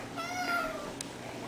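A cat gives a single short, faint meow indoors against a quiet room background, followed by a brief click.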